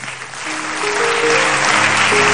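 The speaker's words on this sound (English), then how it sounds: "Let's clap our hands for" Audience at a youth conference claps hands, a building wash of applause that grows louder over a couple of seconds, with a faint tone beneath.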